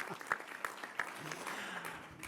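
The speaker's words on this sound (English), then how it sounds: "let's give him a round of applause for doing it" Applause from an audience at a governor's cabinet debrief meeting, a short burst of scattered claps and a soft crowd murmur heard from a distance in a large room.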